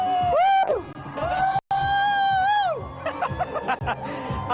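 A parade crowd at WorldPride 2025 cheers and whoops in a loud burst, with high rising shouts, laughter and crowd noise, followed by scattered rowdy voices and chatter.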